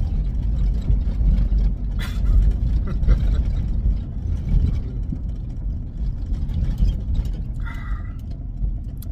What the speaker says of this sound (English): Driving on the highway.